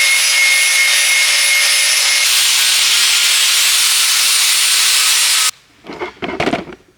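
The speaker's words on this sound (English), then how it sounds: "Let me get the flat disc on the grinder, and let's see if we can clean this axle up" An angle grinder with a flat disc cleans a Silverado axle, a loud, steady high-pitched grinding hiss held for several seconds, then cutting out, leaving short scraping and handling noises nearby.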